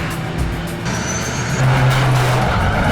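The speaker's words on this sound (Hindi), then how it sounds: "चला दे गाड़ी।" A car pulls away in a getaway to rob a moving lorry's cargo, engine revving up and growing louder partway through as it accelerates, with no talk.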